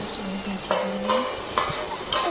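Cooked soybeans are stirred in a pan, with a few distinct scraping strokes over a low steady hum and a faint background sizzle, close and moderately loud.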